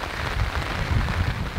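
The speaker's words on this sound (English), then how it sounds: "It's still raining." Steady rain falls outdoors near the Stonehenge railway route, making a dense, even patter with no break, close and moderately loud.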